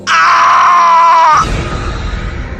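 A single loud, drawn-out scream, tonal and strained, rings out for over a second and then cuts off abruptly into rough, noisy background, as if heard over a phone line in a horror audio story.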